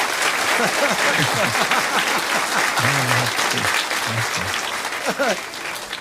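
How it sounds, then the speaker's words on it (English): A TV talk show studio audience applauds loudly and steadily in a broad wash of claps, while someone talks over it in the foreground. "listening to all that applause and things"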